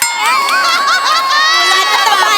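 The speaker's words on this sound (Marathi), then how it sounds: "standing ovation" A studio audience at the Marathi comedy show Maharashtrachi HasyaJatra rises in a standing ovation, with a dense, continuous wall of loud cheering, shouts and whistle-like tones filling the room.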